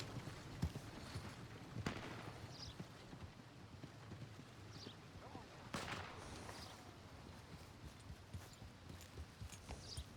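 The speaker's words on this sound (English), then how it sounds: "I hear gunshots" A few distant gunshots crack in Red Dead Redemption 2, spaced several seconds apart. Quiet horse hoof clops and ambient game sound continue underneath.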